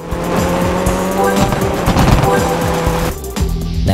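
Rally car racing in Rally 1 Race to Glory: a revving engine shifts up and down through the gears, with tire noise and a sharp drop in the engine note near the end.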